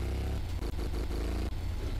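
A motorcycle engine in a Brazilian favela motorbike video game revs loudly and continuously, a steady throaty drone with brief dips in throttle, heard alone without talk.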